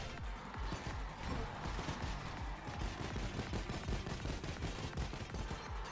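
Dense gunfire in the video game Mighty Goose crackles nonstop for several seconds, shots overlapping in a loud, chaotic barrage with no clear pauses.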